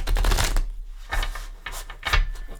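A thick deck of tarot cards being shuffled by hand, several quick papery riffling bursts separated by short pauses, close and fairly loud.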